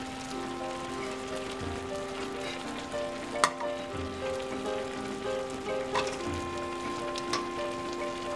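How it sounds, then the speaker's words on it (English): Zucchini noodles sautéing in olive oil in a large pan, a steady soft sizzle with faint stirring clicks and occasional louder taps, close by. "I'm going to take the zucchini noodles and I'm going to saute them in this large pan"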